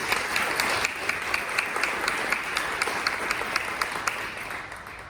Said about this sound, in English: Please join me in a round of applause for these committee members as well.